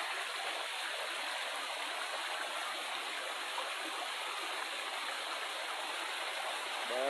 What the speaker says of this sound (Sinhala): අපේ ඇලට ලස්සන දොළ පාරකට ආවේ